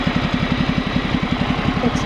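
A Ducati Multistrada 1200 motorcycle idling up close, with a steady, fast, even pulsing thump from the engine that holds throughout.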